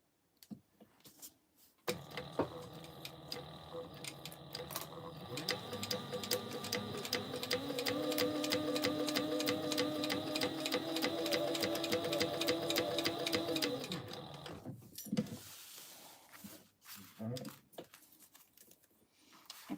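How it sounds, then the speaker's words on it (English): Sewing machine top-stitching around a clear TPU vinyl backpack: a steady, fast mechanical whir and needle rattle running for about twelve seconds, close and clear, with faint clicks before and after. "we are going to be doing a top stitch all the way around here"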